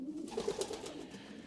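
Freshly bathed pigeons coo softly in a loft, a low rolling series of murmured calls close by over steady background noise, with no talking.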